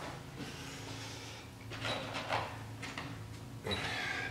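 Bolts being set into place on a 1997 Polaris Sportsman ATV engine during a rebuild, heard as a few light metallic clinks and scrapes over a steady low mechanical hum.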